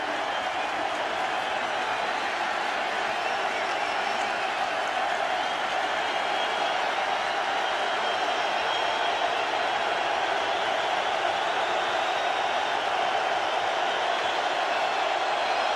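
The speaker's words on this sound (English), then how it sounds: "The crowd noise picks up." Steady stadium crowd roar fills the air at a 2009 NFL game between the Vikings and 49ers, a dense, continuous wash of many voices during a defensive stand, holding loud and even throughout.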